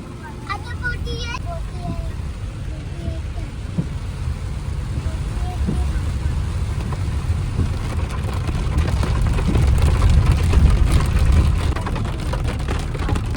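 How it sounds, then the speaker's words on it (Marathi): Dense, steady monsoon rain roars across the whole stretch in Goa, swelling louder toward the end, with a few faint voices briefly audible early on. "कालोक केलंय पावसाने खूप असा पाऊस आहे"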